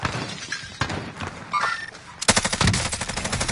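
Rapid bursts of gunfire in a video game, sporadic shots at first, then a dense loud volley of automatic fire toward the end, with faint voices in the background.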